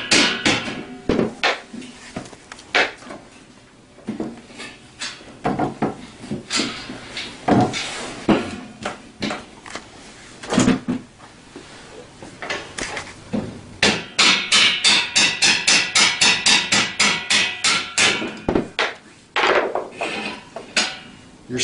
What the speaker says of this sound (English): Use rubber mallets here, but just going to get it started coming out of the spot.